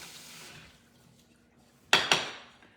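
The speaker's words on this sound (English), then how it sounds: "I'm going to rinse off my spoon." A spoon rinsed under a running kitchen tap while mixing aguas frescas, giving two sharp, close splashing bursts of water near the end after a quiet stretch.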